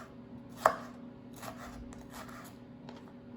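A kitchen knife cuts through cabbage on a cutting board, giving a few soft, sparse strikes with one sharper chop near the start, all quiet and close against a low background hum.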